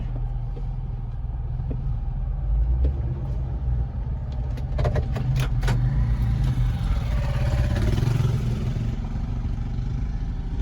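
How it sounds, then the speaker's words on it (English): A dirt bike engine rumbles past from behind on a dirt road, a steady close engine drone that swells toward the middle and eases off, with no talking. "Oh, and there's a dirt bike behind me."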